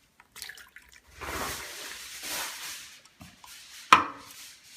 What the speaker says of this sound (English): I will now pour it into a bowl.